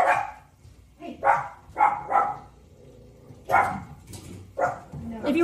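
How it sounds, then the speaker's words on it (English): Dogs in a home barking repeatedly in uneven bursts, about six close barks with short gaps, while a person speaks quietly between them. "They heard a dog barking,"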